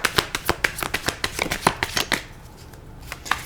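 Tarot cards being shuffled by hand, a quick close riffle of crisp flicking slaps for about two seconds, then a pause and a few softer card taps.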